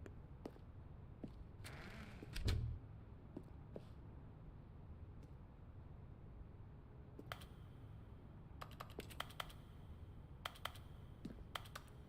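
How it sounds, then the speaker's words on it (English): Keyboard typing in The Stanley Parable video game comes through as faint, scattered key clicks, some single and some in quick clusters, over a quiet background hiss. "No matter what, it sounds like I'm typing on a keyboard."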